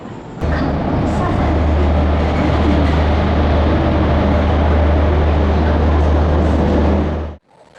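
A delayed passenger train at a station near Panvel, heard as a loud, steady low rumble with broad noise that holds for several seconds before cutting off abruptly.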